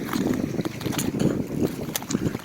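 Gusty wind blows outdoors on a sandy shore during Hurricane Henri, a steady rushing roar with buffeting surges against the microphone, close and continuous throughout.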